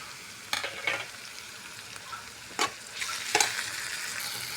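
Tomato tipped into onions fried pink in hot oil with mustard seeds and cumin for a spicy green pea curry; a soft steady sizzle is broken by a few sharp scraping stirs of a spoon, close by, with no voices.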